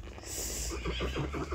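A saddled horse neighs outdoors, a loud, close whinny with a rapid, pulsing series of shaky calls in the second half over steady low background noise.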